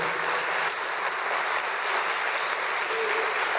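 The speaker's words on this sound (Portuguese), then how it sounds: "Glória a Deus, aplaude o Senhor nessa manhã." A church congregation at a morning service applauds, with dense, even clapping from many hands that fills the room and holds steady without a break.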